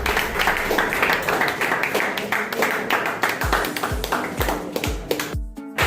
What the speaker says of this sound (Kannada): ಜೋರಾದ ಚಪ್ಪಾಳೆಯೊಂದಿಗೆ ಅವರನ್ನು ಗೌರವಿಸಬೇಕು ಕೇಳ್ಕೊಳ್ತೇವೆ